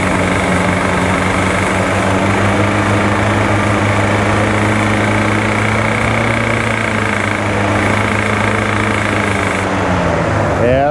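A 1968 Chevy Caprice engine runs loud and close in a steady, slightly uneven idle, consistent with a valve not fully seated, holding a constant drone for about eleven seconds with a brief shift in pitch near the end.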